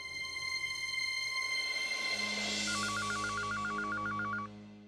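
Phone keypad tones as a woman dials to call her mother, a fast run of evenly spaced beeps over a steady background hum, with no talking.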